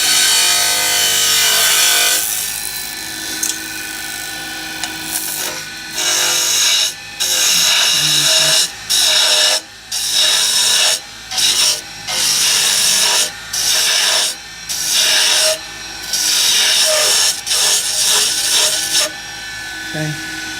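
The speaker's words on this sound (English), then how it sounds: "I should just get my detail gouge out of here. Get a better cut here." A detail gouge cutting wood while shaping a driver handle, heard as repeated close rasping, scraping strokes broken by short pauses, with some talk mixed in.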